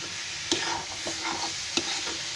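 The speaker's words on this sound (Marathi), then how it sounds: "गूळ पूर्ण वितळला आहे. हे बघा, मस्त आवाज पण बघा कसा येतोय." Melted jaggery modak filling sizzles steadily in a pan as a spoon stirs it, with a few sharp scraping knocks against the pan over the constant frying hiss, close and without talk.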